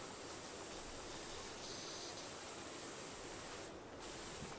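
A pressure washer in PowerWash Simulator sprays water as a steady, unbroken, even hiss, with a brief change in texture near the end and no voices.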